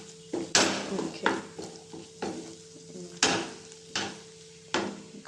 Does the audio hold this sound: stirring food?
yes